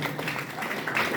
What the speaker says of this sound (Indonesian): Tepuk tangan untuk manajemen.